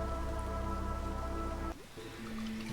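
Light drizzle rain in the Against the Storm video game, a soft steady patter over a sustained musical drone that cuts out briefly before a quieter tone returns.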